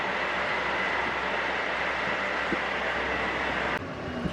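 Steady broadband rumble of a Santiago Metro Alsthom NS74 train running, loud and continuous, with a brief clunk near the end as the noise drops slightly.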